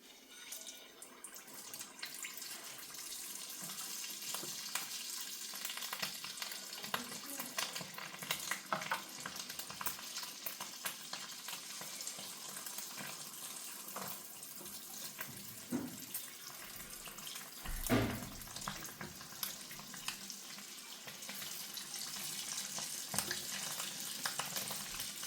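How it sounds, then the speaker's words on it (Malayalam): Uniyappam batter poured into a pan of well-heated oil gives a steady, close sizzle and bubbling of frying that runs through the whole stretch, with one brief louder clatter near the middle. "എണ്ണ നന്നായി ചൂടായി വന്നിട്ടുണ്ട്. അതിലേക്ക് മാവ് ഇങ്ങനെ ഒഴിച്ച് കൊടുക്കുകയാണ്."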